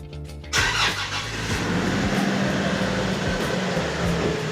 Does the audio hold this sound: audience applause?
no